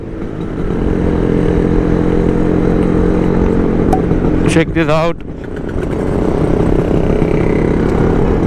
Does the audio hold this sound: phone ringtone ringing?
no